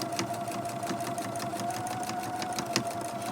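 A sewing machine named Sylvia stitches through four layers of fabric on Christmas tree napkins, a steady rapid needle clatter with regular mechanical pulses close by.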